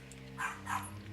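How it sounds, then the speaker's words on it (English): A dog barks twice in the background, two short muffled barks a fraction of a second apart, heard from a distance over a steady low hum from a home setting. "You can hear my dog barking in the background because he is nuts."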